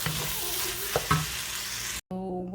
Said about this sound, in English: we're going to add one egg. Then we'll stir it a little bit.